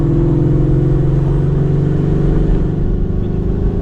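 A procharged Ford Mustang pulling hard, its engine holding a loud, steady droning tone close up with a faint whine on top, continuous throughout with no talking.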